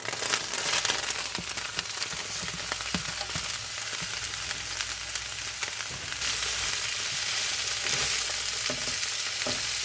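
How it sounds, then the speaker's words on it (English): Mixed vegetables, including zucchini, stir-fry in a hot pan for a hoisin pork stir fry, giving a steady, close sizzle with scraping stirs and clinks throughout, no talking. "And then I'm going to just throw all the veggies in here. Cook them up."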